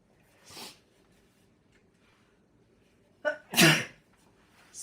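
A person sneezes once, then clears their throat faintly, and sneezes again much louder; quiet in between.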